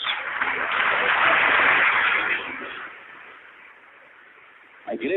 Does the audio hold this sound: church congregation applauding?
yes